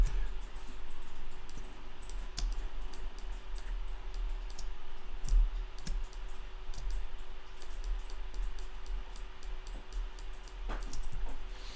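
Scattered key presses on a computer keyboard, sharp irregular clicks at close range over a low steady hum, with a few louder taps standing out and no talking.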